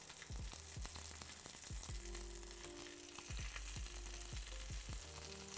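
Arepas sizzle and fry on an oiled griddle set on a Big Green Egg grill, a steady close hiss with scattered crackles and pops running the whole time, no talking.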